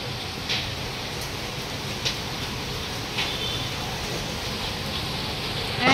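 Rain falls steadily on a roadside demolition site, a soft even hiss with a few faint drip-like ticks, fairly quiet and continuous with no talk.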